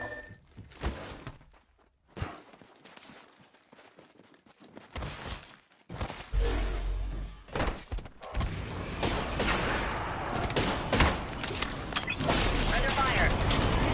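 Gunfire in the Apex Legends Arenas video game: sparse shots and impacts at first, then dense bursts of automatic fire and clattering effects building toward the end, with a voice speaking over parts of it.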